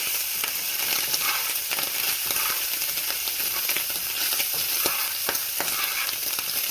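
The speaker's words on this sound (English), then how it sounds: "A little bit of popping." Butter sizzles and fries in a pan, a continuous bright hiss dotted with frequent small pops and crackles, close up and steady throughout without speech.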